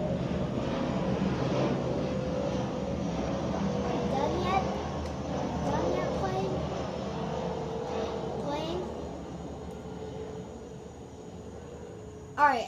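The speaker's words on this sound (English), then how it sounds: "I'll wait for the plane." An airplane flies overhead outdoors, a steady broad roar that swells and fades slowly across the whole stretch, with some faint voices mixed in.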